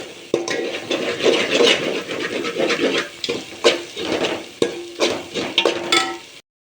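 A spoon scraping and stirring biryani masala with ginger garlic paste as it sizzles in a pan for vegetable biryani, a steady close clatter of strokes and frying hiss with no speech.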